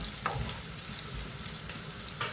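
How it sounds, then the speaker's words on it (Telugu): Spices and onions frying in hot oil for a potato egg curry, giving a continuous close sizzle and crackle with a few brief stirring scrapes and no voice. "చూడండి, ఇవన్నీ వేగుతున్నాయి."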